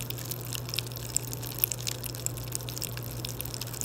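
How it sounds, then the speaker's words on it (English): Pop Rocks candy fizzing in a glass of water gives a steady close-up crackle of tiny pops and sizzles, with a few sharper snaps over a constant low hum. "see what it's like when it's finished sizzling"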